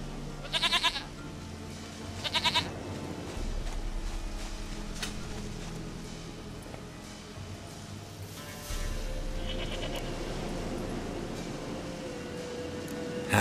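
Goat bleating in The Witcher 3 video game, two short wavering bleats close together near the start, then quieter ambient game sounds and a low hum, with no talk.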